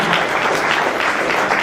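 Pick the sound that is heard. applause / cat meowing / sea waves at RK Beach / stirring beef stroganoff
applause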